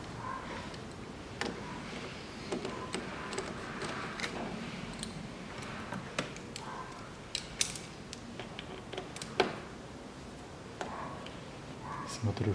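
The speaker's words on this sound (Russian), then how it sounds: "И равномерно закручиваю по кругу." Ratchet turning bolts evenly in a circle on a 2006 Audi Q7 3.0 diesel fuel filter housing, with faint scattered mechanical clicks and creaks over steady background noise and some talking.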